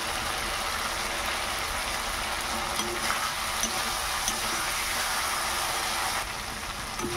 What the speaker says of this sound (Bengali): আলু পটল কষানো হয়ে গেছে